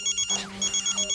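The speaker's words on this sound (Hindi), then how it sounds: "उठा फोन।" A telephone rings with an incoming call in a Hindi children's TV episode: rapid, evenly pulsed electronic ring bursts, briefly broken by a whooshing swell before the ringing resumes, with no talking.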